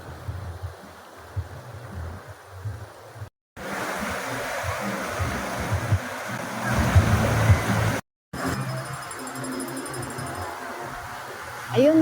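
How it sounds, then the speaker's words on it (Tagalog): Fast-moving water of the Balanac River in Magdalena, Laguna rushes continuously in three separate stretches broken by short silences, loud and close with a churning roar. "Lakas ng current ng tubig."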